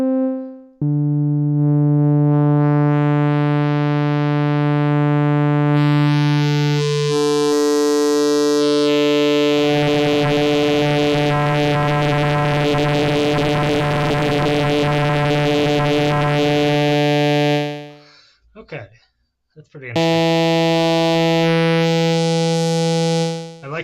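An Arturia MicroFreak synthesizer on its noise oscillator type holds a loud, sustained harmonic drone whose tone shifts, turns into a dense buzzing, noisy texture in the middle, drops away briefly, then returns as a steady tone, no voices.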